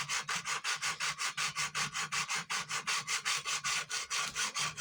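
Hand sanding wood with 60 grit sandpaper makes a fast, steady back-and-forth rasping, about five strokes per second, close and consistent throughout with no speech.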